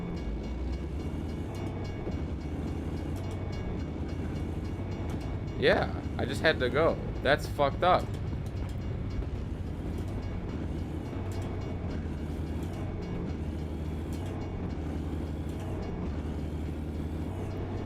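A train rolling past in the trucking game American Truck Simulator, a steady rumbling drone with a short cluster of clanking, horn-like bursts in the middle, under someone talking.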